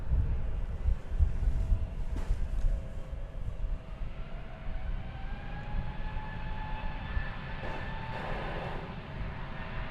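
A Frontier airliner bound for Santa Ana takes off from runway 36 right at DFW Airport, its engines giving a steady distant roar with rising whining tones as it gathers power.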